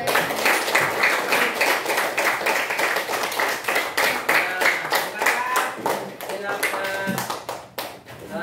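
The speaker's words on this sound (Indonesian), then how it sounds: "Tepuk tangan dulu" Classroom clapping after a teacher's closing remarks, a dense run of many hands striking together for several seconds before tapering off near the end, with voices mixed in.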